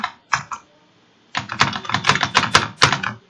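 Close computer keyboard typing while writing R code, a few isolated keystrokes followed by a quick run of clattering presses, no voice.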